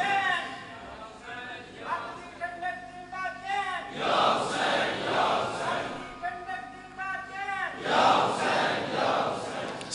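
A large crowd at a religious gathering commemorating Imam Hussain chants slogans in unison, loud swelling waves of massed voices that rise and fall in repeated bursts.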